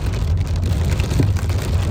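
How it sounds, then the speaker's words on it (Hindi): Rain falling in Makkah, a dense hiss of drops mixed with a low rumble of passing traffic over about two seconds, loud and close with no talk. "माशाल्लाह आजकल रोज़ाना बारिश हो रही है मक्का में।"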